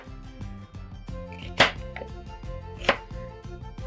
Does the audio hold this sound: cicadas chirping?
no